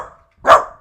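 A single short, loud dog bark close by, heard alone with a quieter yip just before it.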